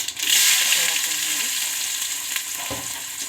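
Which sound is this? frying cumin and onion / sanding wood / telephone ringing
frying cumin and onion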